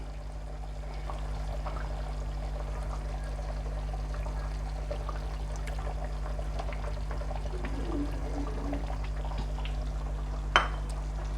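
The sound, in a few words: pouring boiled water into egg curry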